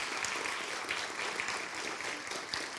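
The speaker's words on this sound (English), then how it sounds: "Can we give L'Alliance a round of applause?" Steady applause from a crowd, a dense even patter of clapping that holds throughout without a voice over it.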